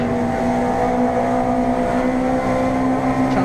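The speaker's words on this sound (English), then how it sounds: "Chance to listen as well to the fantastic engine note of the Civic." A Honda Civic race car engine drones loud and steady at high revs, a strong buzzing note held throughout with no pauses, heard onboard during a Civic Cup race.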